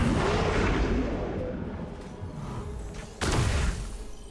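A gunshot in the video game Kena: Bridge of Spirits: a single sudden broadband bang cuts in near the end over a loud, constant rumbling game soundscape, with no talk.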